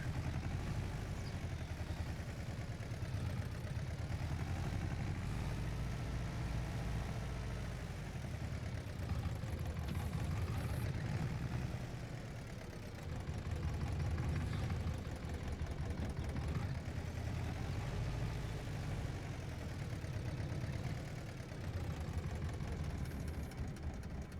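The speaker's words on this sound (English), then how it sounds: "Again, another distinctive engine sound." A steady tractor engine idling in Farming Simulator 25, with a low, even rumble and slight wavering pitch, continuous and close throughout.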